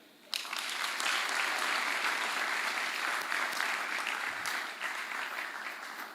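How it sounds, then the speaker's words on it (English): Audience clapping at a career expo launch, bursting in suddenly and holding as a loud, dense, steady round of applause for several seconds before easing slightly. "So clap like you mean it."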